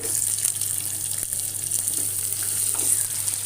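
A medium-sized chopped onion fries in a pan for an Aloo Dum Biryani, giving a close, steady, even hiss of sizzling oil with faint crackles.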